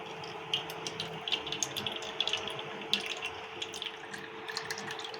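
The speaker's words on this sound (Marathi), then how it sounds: "आता आपण हे पुन्हा गाळून घ्यायचं आहे." Buffalo colostrum milk mixed with jaggery is poured through a strainer, a steady soft trickle and splash of liquid running continuously with small bright drips and patters, close and moderately quiet.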